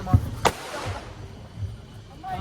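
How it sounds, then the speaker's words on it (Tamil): Diwali firecrackers burst outdoors: a sharp crack near the start followed quickly by a second loud pop, then fading crackle and rumble, with people talking nearby. "சீக்கிரம் வெடிக்குது."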